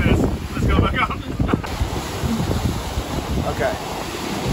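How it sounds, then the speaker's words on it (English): Strong wind gusts buffet the microphone on an exposed mountain edge in the Knuckles range of Sri Lanka, roaring loud and unsteady throughout. "It is windy here and we're on the edge."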